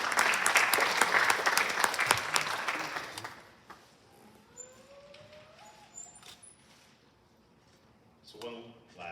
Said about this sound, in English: one last hand of applause for all the parents, all guests, and our staff members